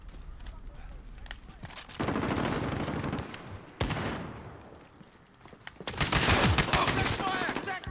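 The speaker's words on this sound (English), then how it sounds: "Freaking gunshots be happening from random spots?" Gunfire rings out in the video game Call of Duty Modern Warfare, with rapid bursts and sustained volleys that come and go, some louder and closer, alongside occasional game voices.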